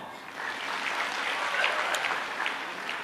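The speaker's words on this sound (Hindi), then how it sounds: "एक बार ताली बजाओ" An audience at a religious gathering with a guru claps at moderate volume, a dense, steady round of applause lasting a few seconds without speech.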